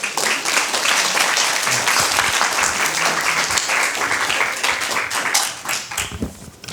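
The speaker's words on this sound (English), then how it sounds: "let's give a big round of applause to Jeremy." Audience applause greets the introduction at a keynote session of a journalism conference, a dense, steady crowd of clapping hands filling the room for the whole stretch and fading slightly toward the end.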